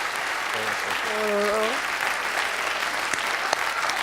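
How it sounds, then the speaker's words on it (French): A studio audience on a French TV quiz show applauds in a continuous, lively burst, with a voice speaking briefly over the clapping near the start. "Très applaudi, bien sûr, Christophe."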